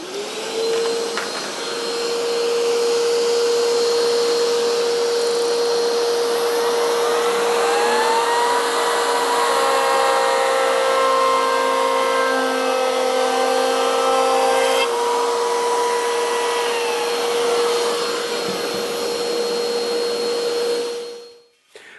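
Canadian Tire dual base router cutting a round over along a wood edge: a loud, steady high-pitched motor whine with the pitch dipping under load as the bit cuts, then winding down at the end.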